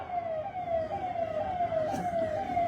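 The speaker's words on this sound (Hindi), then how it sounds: "एम्बुलेंस को थोड़ा बढ़िया से रास्ता दे दीजिएगा।" An ambulance siren wails steadily through traffic on a road in Bengal, its repeating tone slowly dropping in pitch as it passes, moderately loud against a dense street background.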